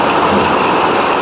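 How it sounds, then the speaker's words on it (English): Hailstones and heavy rain pour down during a Mother's Day storm, a loud, dense, unbroken hiss and patter of impacts filling the whole moment. "Listen to it. And I mean, those are hailstones."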